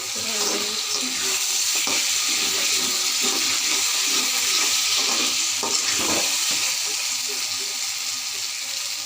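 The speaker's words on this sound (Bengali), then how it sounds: "মাংসটি কষানো হয়ে গিয়েছে" Meat sizzles and fries steadily in a hot pan while being stirred, a continuous close crackle with scraping stirring strokes and no talk.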